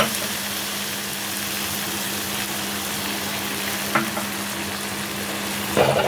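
A paste of sesame, poppy seeds and mustard sizzles in a pan with a little water, a steady close frying hiss with a low hum beneath and a couple of brief clinks of stirring.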